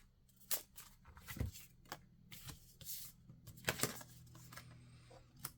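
Tarot cards being shuffled by hand, quiet and close, in several short riffling bursts with soft flicks and pauses between them.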